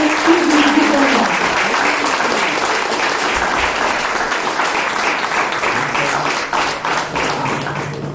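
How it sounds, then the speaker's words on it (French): Loud, sustained applause from an audience at an art exhibition, dense clapping that runs steadily throughout with a faint voice briefly audible underneath. "Mesdames et messieurs, sous vos applaudissements, Monsieur Jean-Michel Izuru-Gudaya."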